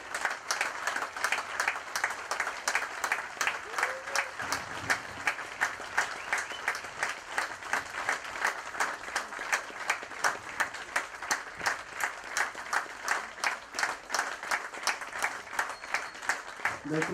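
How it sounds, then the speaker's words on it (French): Sustained audience applause at a karting event, many hands clapping steadily and evenly for the whole stretch, with no pause. "Je vous demande de les applaudir."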